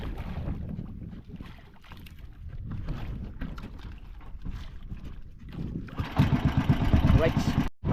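A small boat's engine chugs with a low, rumbling drone on the water, mixed with wind buffeting the microphone and voices talking. The motor grows louder and rougher near the end.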